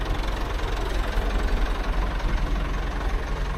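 A tractor engine idles nearby with a steady low chugging rumble and slight knocking vibration, loud and unbroken throughout with no voices.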